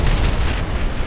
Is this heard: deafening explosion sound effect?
yes